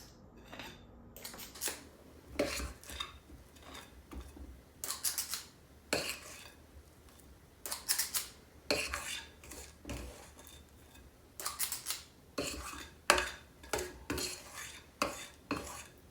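Apple cake batter being scooped from a bowl, heard as close, repeated clinks and scrapes of a utensil against the dish in an uneven rhythm, with no speech.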